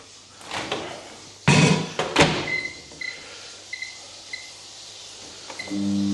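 Clatter of handling followed by a firm thud of a microwave door shutting, then a few high beeps and a low hum starting up.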